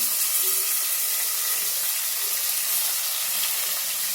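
Tomatoes dropped into hot oil for sambar give a steady, bright sizzling hiss that stays even throughout, with no voices.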